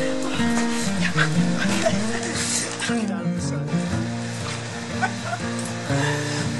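An excited dog yelps and whimpers in high, wavering cries, mixed with people talking over it and some background noise.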